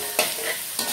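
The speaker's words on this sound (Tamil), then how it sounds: "பச்சை பட்டாணி, ஒரு 5 நிமிஷம் நல்லா வதக்கணும்." Green peas and green beans sauté in a hot pan for a semiya egg pulao, a steady close sizzle broken by two sharp stirring scrapes, with no talk.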